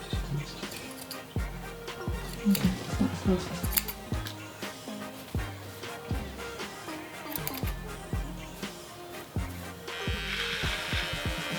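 Repeated crisp snips of scissors cutting hair close up, in an uneven rhythm of quick clipping strokes, with soft talking and faint rustling in the background.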